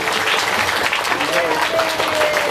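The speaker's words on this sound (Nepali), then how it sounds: "ल ताली बजाइदिनु एकचोटि उहाँको लागि" Crowd applause during a religious Bhagavat Mahapuran week-long gathering, dense clapping filling the room, with voices and a faint tonal line of singing or music rising under it.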